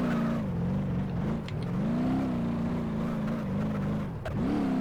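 Car engine in BeamNG.drive running steadily at speed on an untextured runway, a continuous loud drone with slight pitch swells and dips as it drives.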